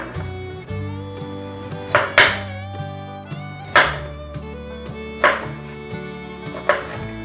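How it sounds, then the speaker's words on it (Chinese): A knife chops cauliflower into small florets on a cutting board, giving about half a dozen sharp, close chops at uneven intervals over a steady low background hum. "把花椰菜切成小朵的"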